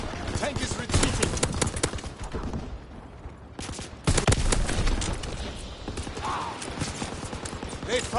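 Gunfire in Call of Duty: WWII multiplayer during a tank battle, rapid bursts of shots and mechanical clatter mixed with someone talking over the action.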